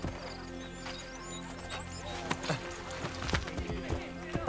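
Horse in the video game Assassin's Creed Brotherhood, with clip-clop hoofbeats in a running rhythm under game music and ambience, getting louder toward the end while a person talks over it.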